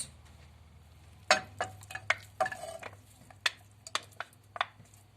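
500 grams of meat for tas kebab go into a pot on the stove, making a scattered series of sharp clinks, scrapes and knocks of metal utensils and cookware, close and fairly quiet, with no talking.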